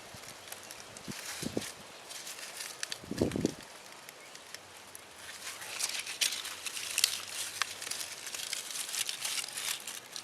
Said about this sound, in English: It's not twisting off too well, so I'm going to cut it there.